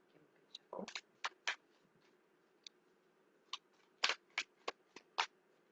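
A brand-new Alice in Wonderland tarot deck gets shuffled by hand, with a series of short, crisp card snaps and riffles in irregular bursts, close and fairly quiet in a still room.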